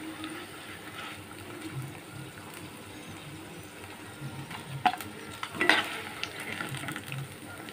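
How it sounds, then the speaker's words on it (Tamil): Brinjal pieces fry for bajji kuzhambu, the hot oil giving a soft steady sizzle broken by a few sharp clinks and stirring scrapes of a spoon against the pan. "கத்திரிக்காய் நல்லா பொரிச்சாச்சு எடுத்துருவோம்"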